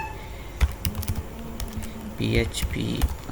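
Computer keyboard keys clicking as a localhost address is typed into a browser, a few quick close taps mixed with a voice talking over them.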